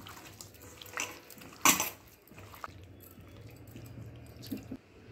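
Chicken being mixed by hand with ginger garlic paste and other marinade ingredients in a bowl: soft wet squishing and sticky handling, a sharp clink of a utensil against the bowl, then quieter intermittent squelching.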